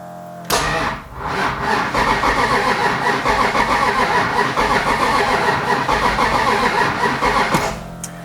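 A 1968 Plymouth Road Runner with an all-iron 440 cubic inch race motor cranks for about seven seconds without firing, a loud, steady, rhythmic starter churn that begins and then stops abruptly.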